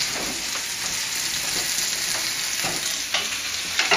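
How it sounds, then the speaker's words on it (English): Potatoes frying in a pan with olive oil and garlic give a steady, close sizzle, broken by several scraping stirs that push the pieces around; no one speaks. "give these potatoes a nice quick stir"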